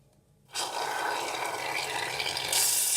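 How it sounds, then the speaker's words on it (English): A can of shaving foam shaken hard while making slime, giving a loud, steady rattling hiss that starts abruptly and continues without a break, growing slightly brighter near the end. "now I'm going to put in my shaving foam to shake it lots"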